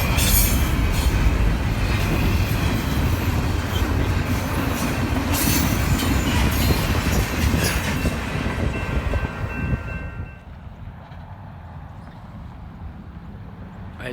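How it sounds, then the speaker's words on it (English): Empty freight train led by ET44AC and SD70ACE locomotives rolling past a railroad crossing, loud steady rumble and clatter of cars with a faint wheel squeal, easing off toward the end. "Right as I arrived at the crossing, this train came."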